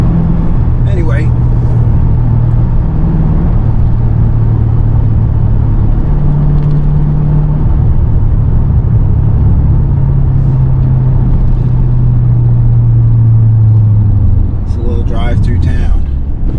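A manual-transmission car drives through town, its engine rumbling and droning steadily from inside the cabin, with a voice talking over it.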